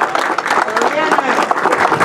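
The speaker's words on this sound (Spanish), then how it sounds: "Y los aplausos nuevamente" Applause at a swimming pool inauguration ceremony at Club Gema in Casa Grande, a steady wash of many hands clapping at close to moderate distance, with voices mixed in underneath.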